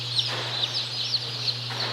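Blue Andalusian baby chicks at a hatchery, a brood of them cheeping in short, high, repeated chirps over a steady low mechanical hum in the background, with no talking.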